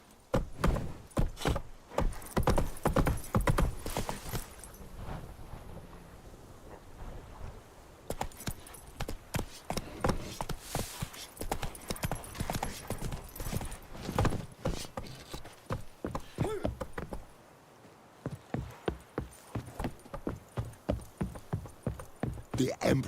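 Horse hooves clopping in The Witcher 3 as a mount gallops toward Novigrad, steady rhythmic beats with faint tack jingling, running almost the whole time with a short lull midway and a voice speaking briefly.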